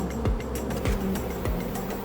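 Honey bees buzz around an open beehive, a continuous droning hum with faint ticking and bumping sounds recurring through it, close and steady, with no talking.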